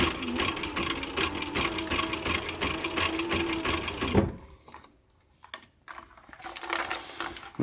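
A sewing machine stitches a leather pillow, running in a rapid steady rattle for about four seconds, then stopping; a few short bursts restart near the end.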